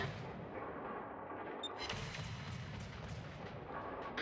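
Naval guns boom in World of Warships, a continuous rumble of distant-sounding artillery salvos and heavy thuds during a battle, steady and moderately loud with no talk.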